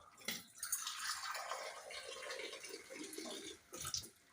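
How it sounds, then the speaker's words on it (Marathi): Water is poured from a glass into a cooking pot in a home kitchen, a soft continuous splashing trickle lasting a few seconds, with a brief louder splash at the end. "ह्याच पेल्याने 3 कप पाणी."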